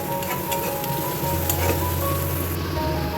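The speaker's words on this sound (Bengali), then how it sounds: "পেঁয়াজটা ভাজা হয়ে গেছে" Onions fry in a pan with a steady, close, even sizzle that holds for a few seconds, with no talking.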